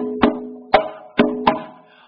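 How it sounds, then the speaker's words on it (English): Four close, resonant strokes on a 12 1/2 inch timber conga ring out in an uneven rhythm, each tone dying away before the next, alone without talk. "On my right, I have a conga, which is 12 1/2."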